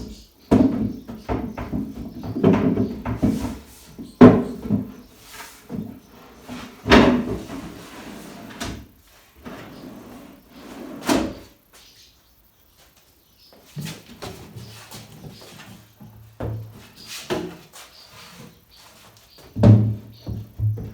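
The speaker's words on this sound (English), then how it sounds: "Okay, so test fit of all the drawers." Wardrobe drawers on full-extension runners slide open and shut repeatedly during a test fit of a dressing-room unit, giving a series of close, sharp knocks and bumps separated by quieter gaps.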